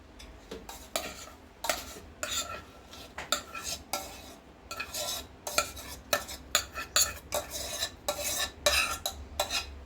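Crumbled frozen milk being scraped and spooned into a mixer jar, a run of repeated scraping and clinking strikes of a utensil against the jar at close range, with no voices.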